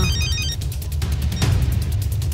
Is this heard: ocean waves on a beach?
no